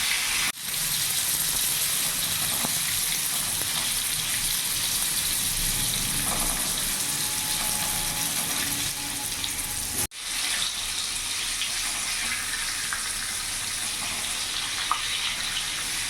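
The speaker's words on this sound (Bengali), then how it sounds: "পটলগুলো আমি ভেজে নেব" Pointed gourd (potol) pieces fry in oil over a medium gas flame, giving a steady, loud, broadband sizzle that runs almost unbroken for the whole stretch, with one brief dip partway through.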